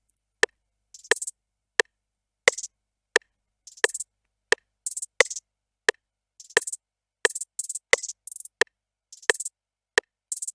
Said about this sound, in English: Although the sound is a hi-hat roll, I had to kind of make a different type of roll here at the top.